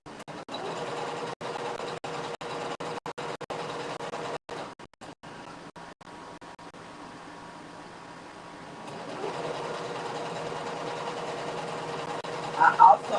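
A sewing machine runs in steady stretches with a mechanical whir, stopping and starting several times, then running continuously toward the end.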